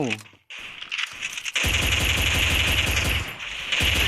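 Rapid automatic gunfire in the mobile battle-royale game Free Fire, a close, loud stream of evenly spaced shots firing continuously after a short pause and a few opening cracks.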